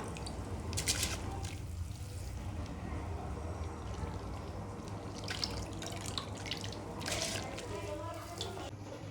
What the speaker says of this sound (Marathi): आता यामध्ये आपण भिजवून घेतलेले तांदूळ ऍड करून घेऊया.